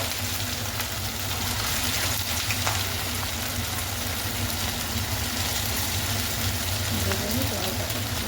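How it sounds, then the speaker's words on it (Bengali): Pieces of chicken frying in hot oil for chilli chicken, a steady, dense sizzle that holds at an even level throughout with no pauses. "এখন কিন্তু আমরা এই মাংসটা ভালো করে ভেজে নেব তেলে"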